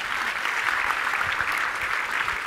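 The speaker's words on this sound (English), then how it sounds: "A little round of applause for content marketing." Audience applause fills a talk venue, a dense steady wash of many hands clapping at once, close and continuous with no talking.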